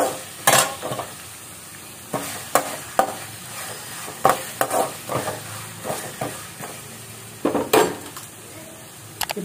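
Onions fry in a pan for tempered rice as a spoon scrapes and knocks against the metal again and again over a light, steady sizzle, close up and without any voices.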